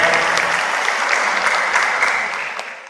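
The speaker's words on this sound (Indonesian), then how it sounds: "Tepuk tangan untuk semuanya." A dense crowd applauds loudly and steadily at a graduation ceremony, the clapping thinning slightly as it fades toward the end.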